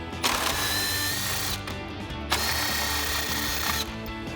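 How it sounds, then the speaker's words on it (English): A 10mm socket on a ratchet or driver spins out grille screws on a RAM 2500 pickup, a close, busy mechanical whirring with brief pauses between screws and no talking. "So we've got our 10mm socket, and we'll get rid of ours."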